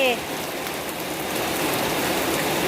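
Steady, dense rain pours down during a storm in Chiang Mai, a continuous close hiss of drops hitting surfaces with no break across the whole stretch.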